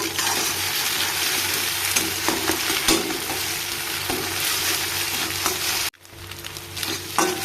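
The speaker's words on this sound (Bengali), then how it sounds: "তিনটে ডিমের একটু ধীরে ধীরে ভুজিয়া করে নেবো আমি এইভাবে" Three eggs sizzle and hiss in a hot pan as they are slowly stirred into a bhujia scramble, a loud, steady fry with scraping of the spatula, briefly cutting out near the end before resuming.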